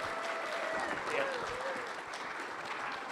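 Audience applause for Ralph Z. Hallow at a CPAC event in Atlanta, a steady wash of clapping from a crowd while a voice speaks over it, fading slightly toward the end.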